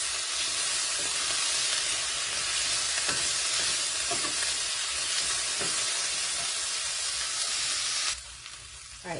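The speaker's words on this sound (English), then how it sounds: "Saute all of that together for about 2" Vegetables sizzle steadily in a hot skillet, a dense continuous frying hiss close up with faint stirring, easing off near the end.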